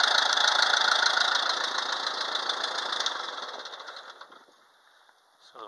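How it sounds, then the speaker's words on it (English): A Wheel Horse garden tractor engine running nearby, a loud, steady mechanical chug with rapid knocking pulses that fades and winds down toward the end. "Got the wheel horse running."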